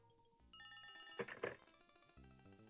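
A telephone rings in the Leisure Suit Larry: In the Land of the Lounge Lizards game, a synthesized chiming ring with a soft musical backdrop, two brief bright bursts standing out in the middle.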